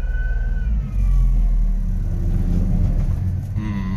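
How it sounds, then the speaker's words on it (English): A Honda Acty 4WD mini truck drives with a loud, steady engine rumble close by. A faint rising and falling whine rides over the drone, which may be the front tires rubbing. "I'm getting rubbing on those front tires."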